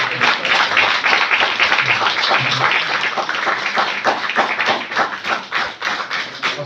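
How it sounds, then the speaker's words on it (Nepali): An audience claps together at a church dedication ceremony, a dense, sustained round of applause close by that thins slightly toward the end. "खदा सँगसँगै हामी जोरदार ताली पनि"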